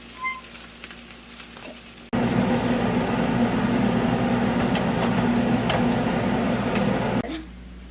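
A salmon patty fries in a pan on a stove burner, a loud, steady sizzle that starts abruptly once the pan goes back on the heat and drops off near the end, with faint kitchen noise before it.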